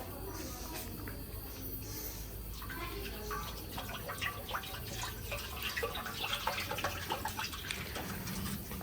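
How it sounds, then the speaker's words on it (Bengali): Milk pours into a wok at home while making homemade curd, giving a steady trickling and splashing that builds gradually. It is fairly faint and continuous, with some background hum. "কড়াইয়ে দুধ ঢালার পর"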